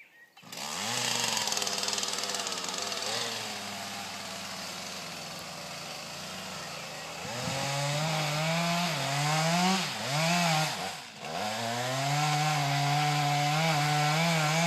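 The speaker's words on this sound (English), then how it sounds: "Now he's preparing to start the saw." A chainsaw starts with a short pull, then idles and revs hard as it cuts into a tree during felling on a calm day. The engine whines loudly and rises and falls in pitch with repeated throttle surges.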